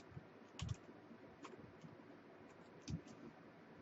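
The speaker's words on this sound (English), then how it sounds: "let me type it" Keys on a Commodore 64 keyboard being typed, a few sparse, faint clicks and taps spread unevenly over low room noise.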